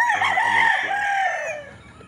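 A rooster crows nearby over a backyard flock of chickens, with a few clucks at the start and the drawn-out call fading at the end.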